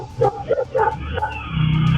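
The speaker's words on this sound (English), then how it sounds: "two street dogs in Argentina intervened when a robbery attempt was made" Two street dogs in Argentina barking and yipping in several close, loud bursts, with a whimpering tone, followed by a low rumbling noise near the end.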